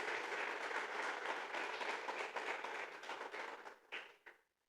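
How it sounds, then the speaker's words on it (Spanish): A church congregation claps together in a steady, dense round of applause that holds for several seconds, then thins out into a few last scattered claps before stopping. "Dale un aplauso al Señor."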